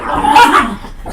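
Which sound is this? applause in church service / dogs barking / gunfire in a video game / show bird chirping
dogs barking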